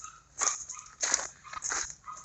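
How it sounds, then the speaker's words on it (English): A dog yips and whimpers in short high bursts several times behind the recorder, moderately near, over a quiet outdoor background at a farm barn where heifers are being fed. "My mother's dog yipping behind me."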